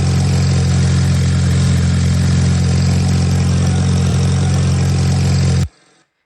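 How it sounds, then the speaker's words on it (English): Looping car engine idle, edited so a reversed section keeps the steady rumble even, runs loud and continuous before cutting off abruptly near the end, leaving a faint tail. "This is going to be the sound of my engine that I'm going to use."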